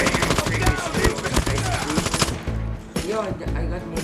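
Call of Duty gunfire: rapid automatic bursts crackling almost without pause over in-game music and effects, loud and dense.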